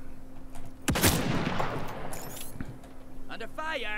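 A sharp burst of gunfire near the start in the Realm Royale video game, followed by fading crackle and a few smaller impacts, with faint game sounds after.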